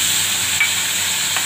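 Hilsa fish frying in a pan with mustard and chili paste, a steady close hiss and sizzle running throughout with a couple of faint stirring scrapes.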